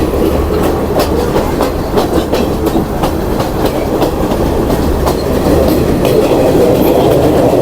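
A train running on Sri Lanka's Nuwara Eliya–Ella railway near Ohiya station, with a loud, steady rumble from the carriages and a regular clickety-clack of wheels over rail joints throughout.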